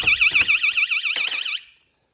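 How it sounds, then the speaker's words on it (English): A warbling electronic YARDGARD pool door alarm sounds continuously for under two seconds as the door opens, with a couple of door clunks, then cuts off into silence. "But then I open it up, and it alarms."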